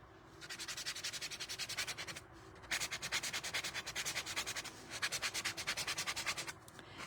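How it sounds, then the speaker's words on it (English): Sandpaper rubbing back and forth over a painted two-tone wooden piece, in steady rhythmic strokes that are close and clear, with a brief pause after about two seconds and no talking. "this is just really nice when you can give this a good sandpaper"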